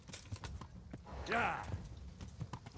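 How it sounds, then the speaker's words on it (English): Horse hooves clip-clopping in Kingdom Come: Deliverance as a rider mounts up, a quiet, steady patter with a brief creaking rise in the middle. "you just mount your horse and get away from the action"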